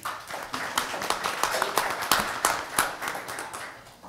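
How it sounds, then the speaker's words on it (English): Scattered hand clapping from a small crowd at a school board meeting, a modest round of quick, uneven claps that thins out toward the end. "so y'all may be applauding too early"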